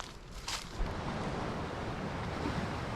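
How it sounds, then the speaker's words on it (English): Steady roar of ocean surf on Palawan with broadband wash, a wave crash standing out early, wind buffeting the microphone throughout. "I know you hear the waves behind me"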